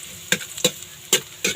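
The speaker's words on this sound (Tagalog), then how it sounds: "Igisa na natin ang ating mga aromatikong pampalasa. Unahin natin ang luya." Ginger and other aromatics sauté in a hot pan, a spatula scraping and stirring in four quick, sharp strokes over a low sizzle.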